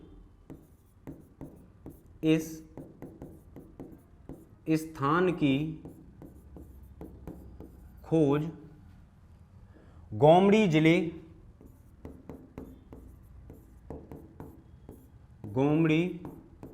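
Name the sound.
writing on the board during a lecture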